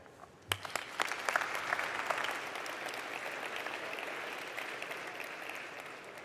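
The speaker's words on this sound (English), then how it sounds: "give a warm round of applause to our second panel of the day" Sustained audience applause fills a forum hall as a panel is welcomed to the stage, starting with a few sharp claps and swelling into a steady, dense wash of clapping that holds throughout without speech.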